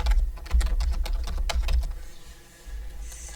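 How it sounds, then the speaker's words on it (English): Rapid keystrokes on a computer keyboard, close and crisp clicking in quick bursts that slow and fade toward the end, with no speech. "So let's type that here."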